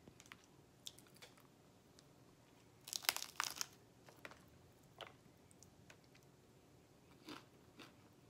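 A bite into a crunchy fried tortilla taco shell filled with shredded beef, cheese and lettuce, heard as a short burst of close, crisp crackling and crunching, followed by a few faint chewing clicks; no talking.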